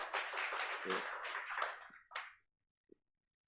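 A congregation clapping to welcome a church elder at a testimony-sharing meeting, a short burst of many hands applauding that fades out quickly after about two seconds, followed by a single faint tap.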